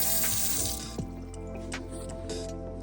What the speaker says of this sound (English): Has a pull down faucet.